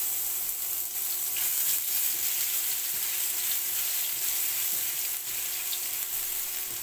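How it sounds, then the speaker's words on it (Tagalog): Minced garlic sautéing in a small amount of oil in a pan, a steady close sizzle that crackles evenly throughout with no voices. "tayo ngayon naglagay ng mantika na konti at magigisa na tayo ng ating bawang"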